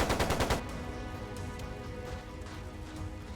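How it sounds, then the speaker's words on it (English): Gunfire in the video game Trails of Cold Steel II opens with a rapid burst of shots like a machine gun, then fades into a low, noisy rumble. "Sounded like a machine gun."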